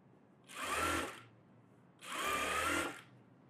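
A sewing machine stitches a net blouse in two short, even bursts of about half a second each, separated by brief silences, close and distinct.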